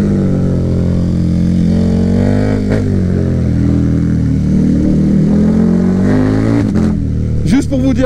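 A KTM Super Duke 1290 R sport motorcycle engine drones and revs steadily at close range throughout, a loud continuous mechanical roar with a brief rise near the end.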